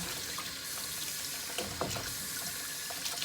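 Apples being washed under a running kitchen tap, with a steady broadband rush of water into the sink and a few soft splashes and knocks of fruit near the middle, continuous throughout.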